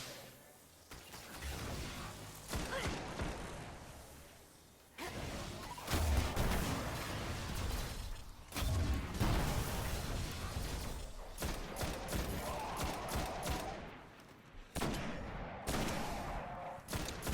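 Gunfire and grenade blasts from the Destiny video game, a Nightfall mission fought solo in the Sepiks Perfected room, with dense, loud bursts of shots and booms repeating throughout and brief lulls between.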